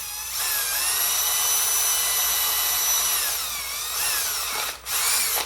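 A power drill bores holes in soft metal on a toy robot, a steady, loud whining motor that stays close and continuous for several seconds, dips briefly near the end, then resumes, with no talking.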